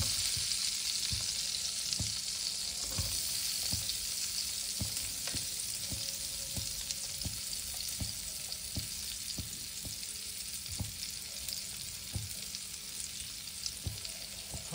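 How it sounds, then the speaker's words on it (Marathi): Onion frying in butter in a pan, a steady loud sizzle running throughout with a regular series of soft knocks and scrapes from stirring, with no voices. "आणि याच्यामध्ये आता आपण हा पहिले कांदा टाकला."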